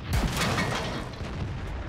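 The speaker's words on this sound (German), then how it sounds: "Dann schieße ich mal auf den Jagdtiger." A tank cannon fires at a Jagdtiger in World of Tanks, opening with a heavy booming blast that rolls into a dense rumbling tail.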